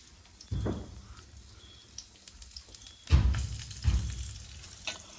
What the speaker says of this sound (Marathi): मासे फ्राय होतात मस्तपैकी